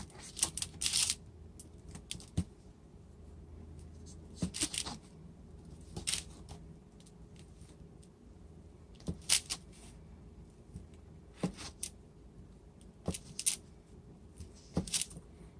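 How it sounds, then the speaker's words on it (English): A knife cuts homemade soap bars into small chunks on a surface, giving sparse sharp taps and clicks at uneven intervals over a quiet background, with no speech. "and then I just cut them into little chunks like this."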